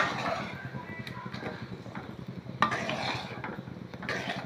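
Egg curry stirred in a pot with a spoon, a steady scraping and clinking with a soft bubbling simmer beneath, continuous and close throughout.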